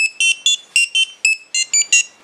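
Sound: buzzer playing Mario Bros tune

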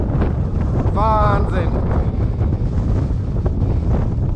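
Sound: strong headwind blowing while cycling

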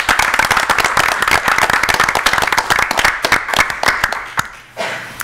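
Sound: audience applause at a board meeting

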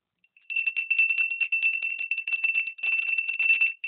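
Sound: bells ringing

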